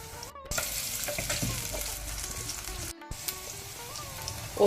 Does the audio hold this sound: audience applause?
no